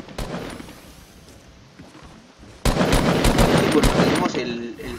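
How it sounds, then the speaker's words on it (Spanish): Fortnite gunfire crackles in quick bursts, faint and scattered at first, then a loud, dense volley of rapid shots erupts and holds for the last couple of seconds; a voice speaks Spanish in the background. "creo que le están disparando, creo que de acá arriba"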